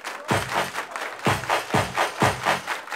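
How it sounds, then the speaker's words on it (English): A party crowd claps along in unison with a DJ-led dance, several sharp group claps landing in a steady rhythm over loud thumping music. "Everybody clap your hands."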